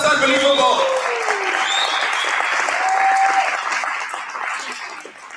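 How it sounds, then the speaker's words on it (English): Sustained applause from a workshop audience fills the room, steady and dense throughout with a few voices calling out over the clapping. "let's give them all a round of applause"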